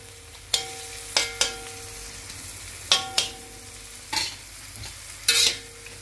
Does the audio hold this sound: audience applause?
no